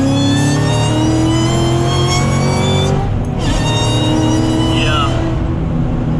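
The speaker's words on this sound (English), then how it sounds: "I love the supercharger whine." A supercharged car at full throttle in third gear, loud and close, with a sustained rising whine layered over the engine roar and a speaking voice underneath.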